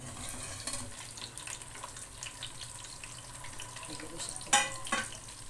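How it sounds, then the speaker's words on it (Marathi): Asafoetida and spice masala frying with eggplant in hot oil make a steady low sizzle close by, with a few sharper crackles and a spoon knock near the end. "ह्याच्यामध्ये मी हिंग टाकते जरा तेलावर हिंग टाकते आणि हा मसाला वांग्याशी टाकून देते"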